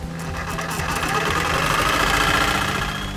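Reciprocating saw cutting through hot tub pipe, a loud steady buzzing rattle with a rapid rhythmic chatter that holds throughout at close range.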